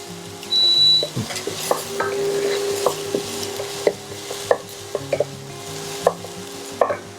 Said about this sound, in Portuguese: Vamos mexer um pouco a nossa cebola para ela não queimar.